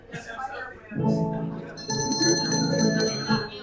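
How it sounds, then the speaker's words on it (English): A bell rings in ringing, sustained tones that swell twice and overlap, with people talking over it. "That's a good bell."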